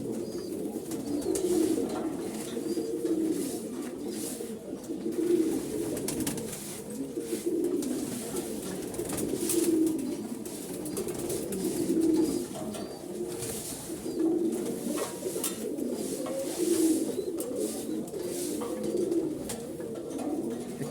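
Pigeons coo at a pigeon house, soft throaty calls repeating every couple of seconds over a low, steady background hum.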